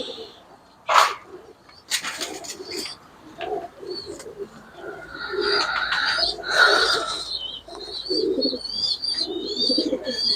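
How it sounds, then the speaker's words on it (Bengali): Pigeons in a fancy-breed collection, including white commando and golden birds, coo repeatedly at close range, with overlapping calls, soft chirps and rustling throughout. "চলেন আপনাদের কবুতরগুলো দেখাই।"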